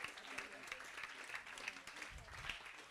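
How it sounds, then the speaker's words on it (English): Audience clapping at a celebration of life, a steady patter of hands across the room with voices murmuring underneath and a few louder claps standing out. "Let's give her a big round of applause because that took a lot of courage."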